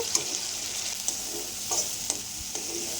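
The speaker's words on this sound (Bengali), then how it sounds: "মশলাটা আমি এবার ভালো করে কষিয়ে নেব" A spice paste fries in hot oil for a banana-flower kofta curry, making a soft continuous sizzle broken by a few sharp spatula clicks and scrapes against the pan.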